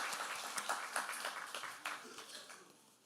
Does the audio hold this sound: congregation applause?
yes